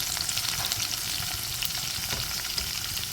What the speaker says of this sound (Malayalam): ഒരു അഞ്ചാറ് പീസ് വെളുത്തുള്ളി ഇതുപോലെ ചെറുതായിട്ട് കട്ട് ചെയ്തിട്ട് മൂപ്പിച്ചെടുക്കാം